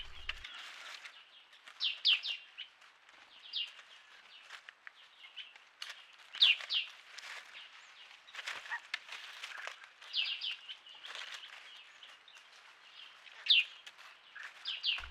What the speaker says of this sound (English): in the afternoon, the laughing thrush arrived in force.